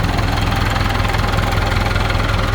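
A TS90 tractor with a Power Star engine idles close by, giving a loud, steady low rumble with an even, rapid knocking pulse and no talking.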